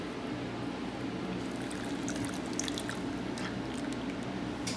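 Liquid being poured into whole wheat flour for Irish soda bread, a steady soft splashing pour with faint drips and a low hum underneath, close and continuous throughout.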